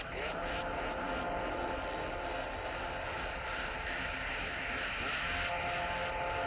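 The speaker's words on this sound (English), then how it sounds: "Compare it to white noise." A synthesizer generates white noise, a broad, even hiss held at a constant level the whole time, with a faint rhythmic flutter at the top and no voices.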